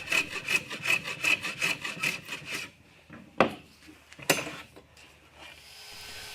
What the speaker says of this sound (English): So I'll do the same thing on the shallow trays, just plane them all down